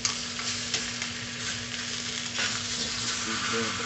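Meat pieces searing in a hot pan for sancocho, a steady close sizzle and crackle with no talking, held at an even level throughout.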